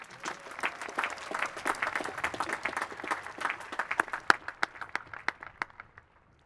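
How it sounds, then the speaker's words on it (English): Applause from a crowd at a Lafayette College commencement ceremony, many hands clapping briskly at first, then thinning to scattered individual claps that fade out near the end. "Evans a round of applause"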